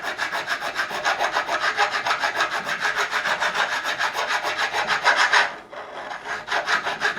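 A file works across the frets of a Squier Jazz bass during a fret level, making a steady rasping scrape in quick back-and-forth strokes. The strokes break off briefly near the end, then resume. The sound is close and fairly loud.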